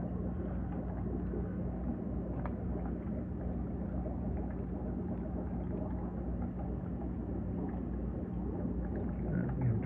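An aquarium water pump with an adjustable flow dial runs steadily in a fish tank holding albino aeneus corydoras fry, giving a continuous low hum and bubbling water wash that stays even and unbroken throughout.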